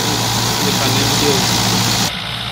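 Massey Ferguson 165 tractor engine running steadily at close range, a continuous loud diesel drone with low rumble that drops slightly near the end.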